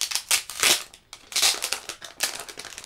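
Plastic security seal being peeled and torn off a Pokémon Elite Trainer Box, loud close crinkling and crackling in three or four quick bursts with short pauses, no talking.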